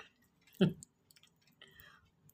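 Close, faint chewing of boiled tapioca eaten with mutton fat: one louder wet bite followed by soft, quiet mouth sounds and smacks.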